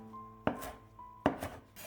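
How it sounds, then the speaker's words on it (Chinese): A knife cuts coriander into short lengths on a cutting board, giving two crisp, separate chops about three-quarters of a second apart over a faint steady hum. "准备几颗香菜，给它切成小段。"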